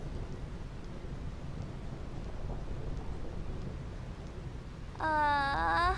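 A continuous low rumble of thunder rolls through the Thunder Plains in Final Fantasy X HD Remaster, steady and loud, before a bright game tone cuts in near the end; no voices.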